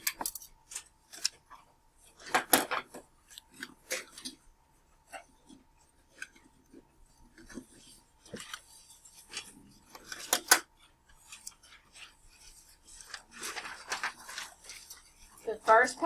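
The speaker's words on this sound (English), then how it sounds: "So take your pages, cut them in half, or fold them." Students in a 7th-grade classroom cutting or folding paper note pages, with scattered snipping and rustling in soft bursts. Low chatter and faint speech run underneath.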